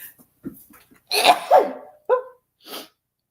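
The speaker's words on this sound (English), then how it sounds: "I'm going to sneeze" A single sharp human sneeze bursts out mid-clip, preceded by a few soft sniffs and breaths and followed by a shorter exhale, close and fairly loud in a quiet room.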